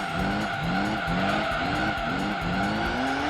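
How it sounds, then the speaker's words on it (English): Shelby Cobra tires squealing through a drift in Gran Turismo 3, a steady, loud screech over a droning engine, with tire pitch rising and falling in repeated waves as the slide continues. "You just drifted so much."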